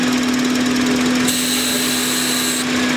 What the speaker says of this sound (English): you can hear the engine speed changes